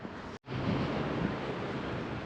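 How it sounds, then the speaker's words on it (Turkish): Strong wind roars steadily near a bridge over a stream, a broad continuous rush buffeting close to the microphone with one brief cut near the start. "çok rüzgar çıkıyor"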